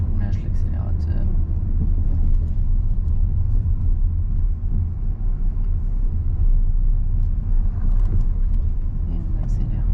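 Car engine on the road during a driving lesson as the accelerator is released, a steady low rumble with road and tyre noise that stays continuous and fairly loud, with speech present.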